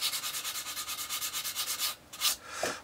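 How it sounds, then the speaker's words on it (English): A steady back-and-forth rasping of a sanding stick on a 1:72 plastic model aircraft kit, rhythmic and close, ending with a couple of slower strokes. "if you're using a flat stick, then all you're doing is sanding it flat"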